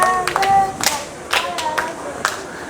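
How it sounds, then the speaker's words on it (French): A children's TV studio audience claps for a young contestant, a few seconds of scattered clapping mixed with bright tonal music stabs and short voices, loud at the start and tapering. "Allez, on applaudit pour elle."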